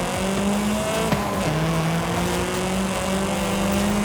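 Mugen Honda Civic driven on a mountain touge road in Forza Horizon 5, a steady loud engine drone with gear shifts and a faint squeal of tires, continuous and close throughout.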